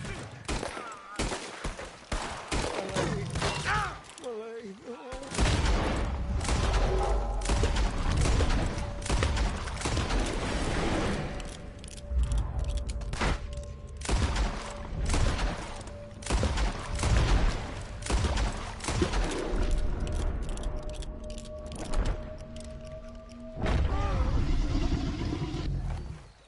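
Sustained gunfire in Red Dead Redemption 2 as shots pour into a huge alligator, with dense bursts and rapid volleys running throughout, loud and close, mixed with game sounds and shouting voices.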